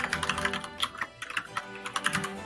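Rapid computer keyboard typing, a sound effect from the Great Ace Attorney 2 video game, clatters in quick, uneven keystrokes for a few seconds at a soft level with no voices.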